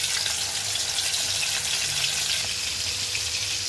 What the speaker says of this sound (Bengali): এই চুলায় কই মাছগুলো ভেজে নিব